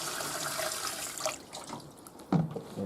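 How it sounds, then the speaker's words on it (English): A bowl of water tipped into a Hoover Spinarinse 3012A twin-tub washing machine gives a soft splash and pour, then a brief louder gush, fairly faint and close. "I'm going to tip this bowl of water in"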